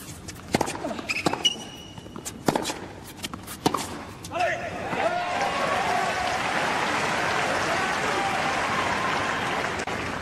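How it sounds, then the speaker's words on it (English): A spectator at the 2010 Australian Open quarter-final between Tsonga and Djokovic claps after a missed first serve. A few scattered, isolated claps sound first, then a broad wash of crowd applause takes over and holds steady to the end. "Just over his shoulder, clapping when he misses his first serve."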